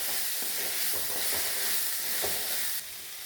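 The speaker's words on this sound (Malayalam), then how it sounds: "എന്നിട്ട് എല്ലാം കൂടി നല്ലതുപോലെ ഒന്ന് ഇളക്കി" Cowpea curry being stirred in a hot pan, a steady sizzling hiss with a few soft scraping strokes of the spoon, close and continuous, dropping slightly quieter near the end.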